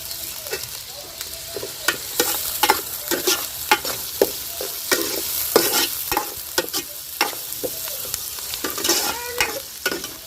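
Curry leaves dropped into hot oil for a ridge gourd curry give a loud crackling sizzle, with repeated sharp pops and a spatula scraping the pan, close and continuous.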